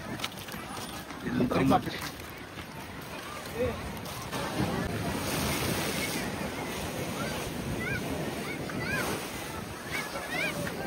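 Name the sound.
rough sea waves at beach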